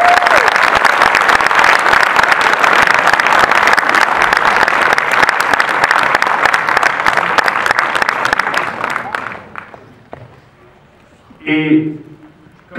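Audience at a film screening and debate for a Mazinger Z film breaks into loud sustained applause that fills the room, then fades out and ends, followed by a brief spoken phrase.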